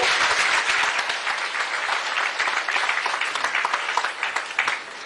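Sustained, loud applause from a large crowd honoring meritorious Class 10 and 12 students at a Chief Minister Bhupesh Baghel ceremony, dense and steady clapping filling the whole stretch without a break.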